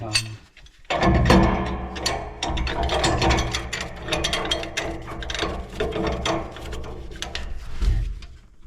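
A wrench ratchets repeatedly while a fitting is screwed in during an oil tank installation, with dense clicking and clunking close by over about eight seconds.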